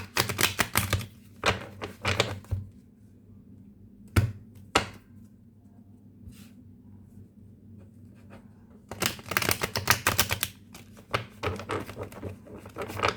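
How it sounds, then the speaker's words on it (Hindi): Tarot cards being shuffled up close, with rapid riffling bursts at the start and again near the end, separated by a quiet stretch with a few isolated taps. "तो चलो एक दो शफल दे देते हैं कार्ड को और फिर कार्ड्स निकालते हैं।"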